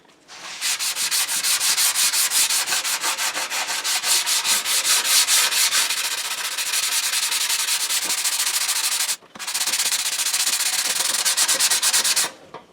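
Hand sanding of body filler on the rock guard of a 1968 Mustang, a steady rapid back-and-forth rasping scrub that runs almost continuously, with one brief pause near the end and no voices.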